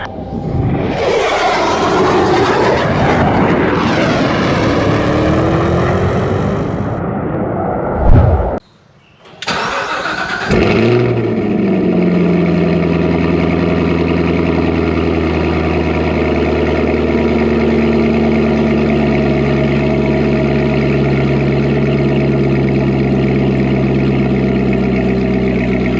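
A freshly upgraded and painted OH-58 police helicopter powers up for liftoff: a loud engine whine and rumble builds, cuts out briefly, then settles into a steady, close, sustained turbine drone with layered tones.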